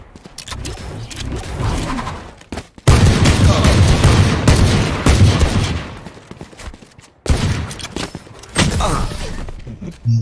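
Dense bursts of gunfire in Valorant, rapid overlapping shots and booms in several loud clusters separated by brief quiet gaps, close and intense throughout.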